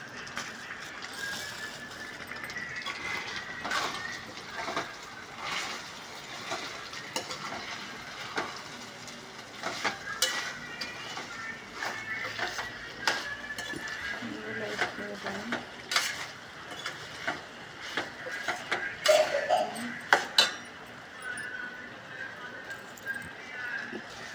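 Meal maker 65 stir-fried with sesame seeds in a pan gives a continuous sizzle and crackle with repeated scraping and clattering spoon strokes, close and moderately loud, rising toward the end.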